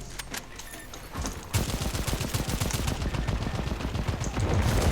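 Rapid automatic gunfire in the video game Second Extinction, dense bursts of shots growing louder and more continuous after the first second, with no speech.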